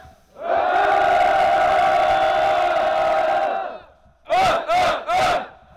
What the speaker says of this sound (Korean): 전방에 2차 함성 3초간 발사!